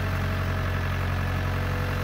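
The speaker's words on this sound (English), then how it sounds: "the tractor's too loud to really talk to you while it's operating" Farm tractor engine running steadily, a loud continuous low rumbling drone with a strong steady hum and no speech, close and unchanging.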